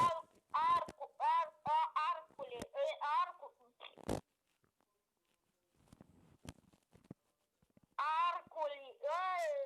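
A chicken emote in the Clash Royale mobile game clucks in a string of squawky, rhythmic bursts, goes quiet for a few seconds, then clucks again, close and fairly loud.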